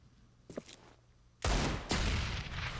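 A grenade goes off in a professional Counter-Strike match on the map Mirage, a sudden loud, close blast followed by a second burst and rumbling decay, after a few faint clicks and thuds.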